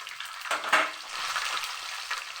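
Garlic frying in oil in a pan for avarakkai kara kulambu, a close, steady sizzle with a brief louder crackle as it is stirred.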